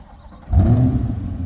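A Chevrolet Corvette C8 supercar engine starts with a sudden loud low roar, then settles into a deep rumbling idle close by.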